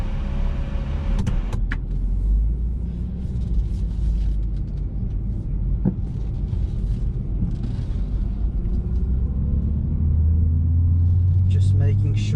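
A 2014 BMW 235i Coupe with a six-cylinder engine pulls away, its low engine rumble steady and close inside the cabin, rising slightly near the end, while someone talks over it.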